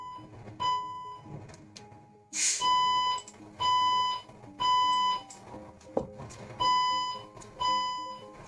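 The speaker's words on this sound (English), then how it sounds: "I hate the fire alarm." A fire alarm sounds in a series of loud, evenly spaced electronic beeps, each lasting about half a second, repeating steadily with no voices.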